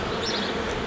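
Honey bees buzzing in a continuous close drone around an open hive during an inspection, with no talking.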